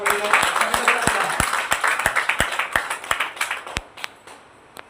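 Audience applause, a burst of scattered hand claps rising then thinning out toward the end, heard fairly close over a voice talking.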